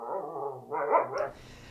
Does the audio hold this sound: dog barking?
yes